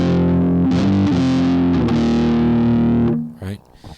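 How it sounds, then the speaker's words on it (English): Heavily distorted bass with a pitch-shifted upper layer plays a few sustained power-chord notes, then stops abruptly, leaving a short trailing sound. "and then I can add the pitch shifter"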